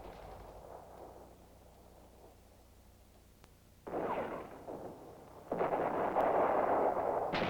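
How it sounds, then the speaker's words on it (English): Artillery fire in war documentary footage from the war with Jordan, heard as two heavy sustained roaring bursts of shelling following a quieter rumbling stretch, loud and close with no speech. "The war with Jordan begins when King Hussein orders his artillery to open fire on Jewish West Jerusalem and along the borders."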